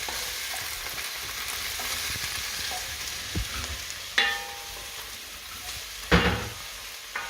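Vegetables for a chicken curry frying in a pan, a continuous loud sizzle with a few sharper scrapes of the spoon as they are stirred, no voices.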